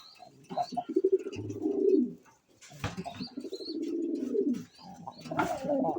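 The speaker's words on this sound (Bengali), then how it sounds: "দেখার মতো একটা নর কবুতর আমার এটা।" A male pigeon coos in repeated low, throaty bursts, close and loud, with short pauses between phrases and faint chirps in the background.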